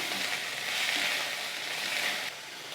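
Coriander and mint leaves sauté in a hot pan for chutney, a continuous bright sizzle at moderate level that eases slightly near the end.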